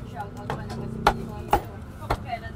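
A knife chops through a piece of meat fat on a market cutting board, three sharp separate thwacks at uneven intervals, close and fairly loud over low stall background and faint talk.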